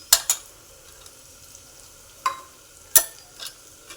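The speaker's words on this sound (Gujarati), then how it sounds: "મસાલાને આપણે સારી રીતે મિક્સ કરી લઈશું" Spices are stirred as they fry in a pan for tempered rice, with asafoetida, coriander-cumin powder and turmeric among them. A few sharp, close clinks and scrapes of the spoon come over a faint, steady sizzle.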